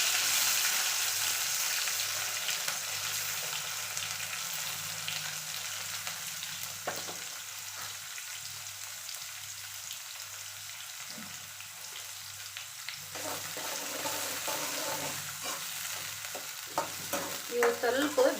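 Chopped onion added to hot oil with curry leaves sizzles steadily in a pan, with occasional stirring scrapes and soft crackles growing busier toward the end; no voices.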